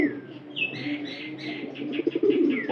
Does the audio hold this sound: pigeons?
yes